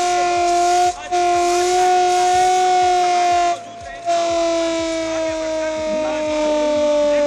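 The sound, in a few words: civil defence air raid siren during nationwide mock drill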